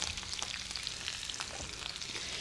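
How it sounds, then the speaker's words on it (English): Canned green beans and onion frying in olive oil in a pan, a steady close sizzle with crackling pops and some stirring, no talking. "Now, we're going to put the green beans right in there before that onion gets too brown."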